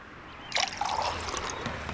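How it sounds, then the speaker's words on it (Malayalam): Fish curry poured from a vessel onto a plate at a Kerala-style meal, a brief liquid trickle and splash that starts abruptly after a quiet moment and continues softly near the microphone, with no talking. "ഇവിടെ ഇപ്പം മീൻ കറി ഒഴിക്കട്ടെ ചേട്ടാ."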